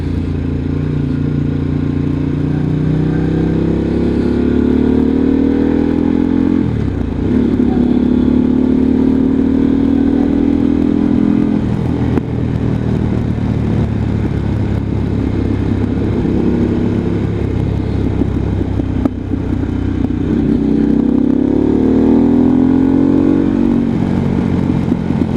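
A motorcycle rides at night along a winding road, its engine droning steadily and loudly throughout, with the pitch rising and falling through gear changes and wind noise underneath, and no talking.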